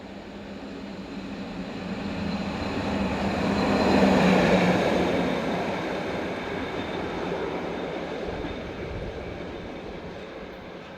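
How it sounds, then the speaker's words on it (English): Locomotive 1144282 running back light engine, a train rumble that swells as it passes nearby and fades away over about eleven seconds, with no talking. "Its braking duties over, 1144282 runs back east, light engine, some 12 minutes later."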